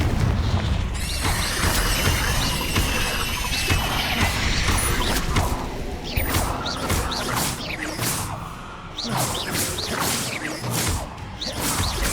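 Confringo fire spells explode in Hogwarts Legacy amid loud combat, with booming blasts, whooshing casts and crashing impacts layered over rattling mechanical effects throughout.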